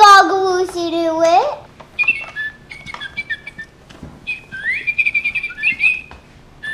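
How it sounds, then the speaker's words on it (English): Little Live Pets toy lovebirds chirp and whistle in bright, rising electronic tweets, coming in short bursts and trills close to the microphone, with a voice heard at the start. "I think they're lovebirds."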